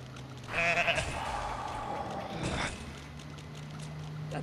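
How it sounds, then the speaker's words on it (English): A goat in a video game lets out a drawn-out, wavering bleat lasting a couple of seconds, moderately loud over a low background hum. "That's a goat."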